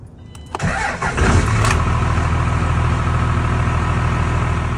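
The 305 small-block MerCruiser in a 1983 Formula F20-SC boat cranks briefly on a chilly morning, catches and settles into a loud, steady, rumbling idle close by.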